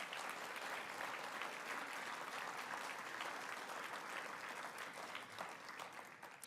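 A large audience at an awards ceremony applauds past recipients, sustained and dense clapping that holds steady throughout before easing slightly at the end, with no talk over it.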